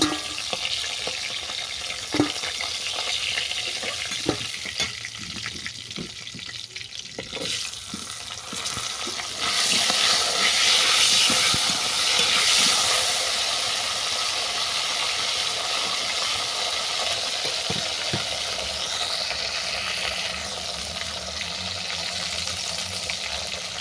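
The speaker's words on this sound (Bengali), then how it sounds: "ঢেঁড়সটা হ্যাঁ, দু মিনিটের মতো ভেজে নিয়েছি" Whole okra frying in hot oil left from browning hilsa fish, a steady close sizzle with occasional stirring clatter and light scraping, running on without any talk.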